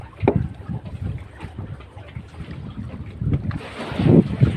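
Wind buffets the microphone and small waves slap against a fishing boat on the Hooghly River as a hilsa net is hauled in during monsoon, with irregular low thumps and gusts growing stronger near the end.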